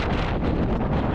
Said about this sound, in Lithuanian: nes vėjas ant tiek stiprus, kad vos eina ant kojų išsilaikyti